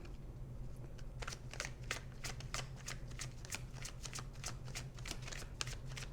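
A deck of cards is shuffled up close during a card reading, a run of quick, crisp riffling flicks repeating steadily over a quiet room.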